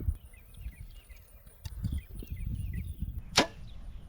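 Arrow shot from a Blackout NV-S compound bow with arrow tuning problems on a windy 100-yard range, a sharp release followed by a quick impact on the target, set against gusty wind noise and faint birdsong.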